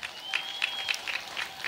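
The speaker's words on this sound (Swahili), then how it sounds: "Hebu makofi mengi sana kwa mwanasheria mkuu wetu." A crowd at a public gathering claps steadily for the attorney general, a dense, even patter of many hands sustained throughout with no voices.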